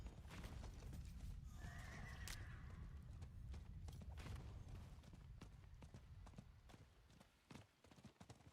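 A horse in Diablo whinnies loudly over a constant background rumble, with hooves clip-clopping and scattered clicks throughout.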